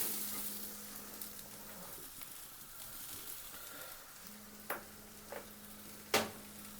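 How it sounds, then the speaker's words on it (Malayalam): Masala and tomato for a Kerala-style crab roast sautéing over a low flame, a soft steady sizzle with a few sharp clinks of a spoon against the pan, no talking. "വഴറ്റിയെടുക്കാം മസാല കരിയാതെ നോക്കണം ഫ്ലെയിം ലോയിലിട്ടിട്ട് വേണം ചെയ്യാൻ"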